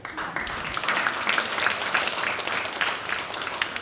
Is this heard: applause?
yes